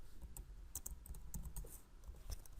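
Keys clatter on a computer keyboard as data is entered while coding an ASP.NET Core Web API, with quiet, irregular close-up keystrokes and no talking.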